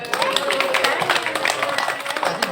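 Children in an audience at a magic show clap together, a dense, steady patter of many small hands filling the clip at close range, with a bit of voice mixed in.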